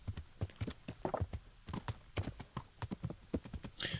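Horse hooves clip-clop steadily on a path in the video game Kingdom Come Deliverance, a close, rhythmic trot of repeated hoof strikes without talk.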